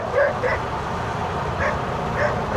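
A dog near Taal Volcano barks several times in short separate yaps, moderately distant, over a steady background of lake water and boat noise.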